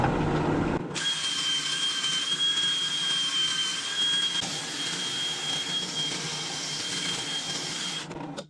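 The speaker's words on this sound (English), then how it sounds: "I cut it out so I can put it on my drill. And I'm just gonna basically sand it" A power drill whirs steadily with a high whine as an abrasive pad sands a turned wooden log, close up and continuous for several seconds before cutting off.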